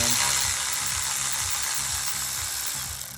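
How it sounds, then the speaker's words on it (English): A ratchet on a 10mm nut under a Chevy Cruze, near the catalytic converter, clicks in a rapid, even rhythm, close and fairly loud. "There's a nut on this side, so we're gonna break that loose now."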